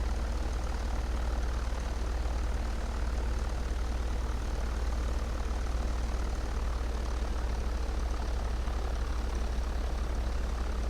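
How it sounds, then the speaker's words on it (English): A propeller airplane taxis or rolls out on a runway after landing, its engine droning steadily and fairly close, low and continuous throughout with no talk. "Come on, Joe, don't drift over off that runway. That wing, you'll drag it. Put him on the ground"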